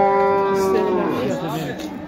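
A cow moos loudly and close by at a Turkish cattle market in Şarkışla, a single long tonal call that slides downward and fades, with faint crowd noise behind it.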